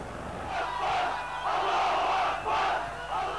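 A dense crowd surges around Yasser Arafat's coffin at his 2004 funeral, shouting and chanting in swelling waves of massed voices that rise and fall without pause.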